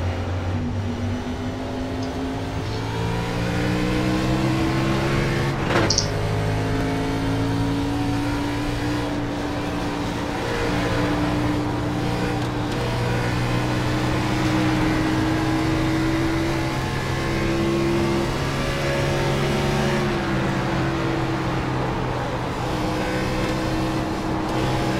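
NASCAR race car engine droning steadily as it laps the track, pitch climbing and falling with acceleration and braking into corners, loud and continuous, with a brief sharp click near the start.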